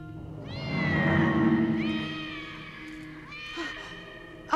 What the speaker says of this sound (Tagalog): Nandiyan na yung pusa.